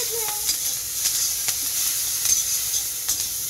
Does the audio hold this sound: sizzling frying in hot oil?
yes